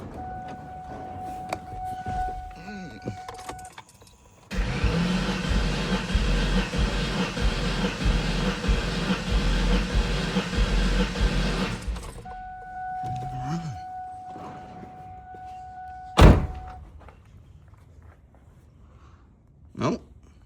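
A Ford 4V engine in a New Edge twin-turbo swap is cranked over on the starter for a compression test after an oil treatment. It makes one loud, sustained burst of several seconds, with a person talking before and after.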